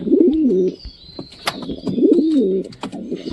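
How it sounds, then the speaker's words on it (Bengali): Domestic pigeons cooing close by in a loft, repeated warbling rolling coos in two bursts with light rustling and small clicks between. "আর তাছাড়া সব কবুতর তো বের হয় চালে ঠালে যায় এটা খুব কমই যায়"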